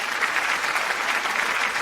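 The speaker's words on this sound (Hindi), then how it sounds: "राजा ताली बजाते हैं।" Clapping fills a royal court, a dense, even wash of applause that holds at a steady loudness without pause.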